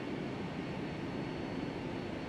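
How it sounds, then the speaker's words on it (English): A Boeing 757-300 cargo plane taxiing in Flight Simulator X gives a constant, even jet-engine roar and whine that holds steady throughout, with no talking. "We're just a big old cargo plane."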